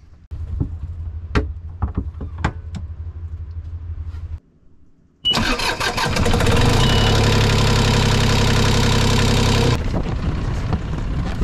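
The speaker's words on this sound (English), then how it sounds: "So we're going to fire up the engine and see if she's pulling water okay" A sailboat's inboard engine is cranked and catches, settling into a loud, steady mid-pitched running rumble after several quiet knocks and clunks, then easing slightly near the end.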